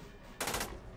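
A single short burst of automatic gunfire in Jagged Alliance 2 cracks out sharp and close, lasting about a quarter second, then fades into a quiet background.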